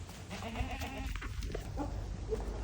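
A goat on a goat farm bleats in a short wavering call, moderately close over low background noise, with a second fainter bleat near the end.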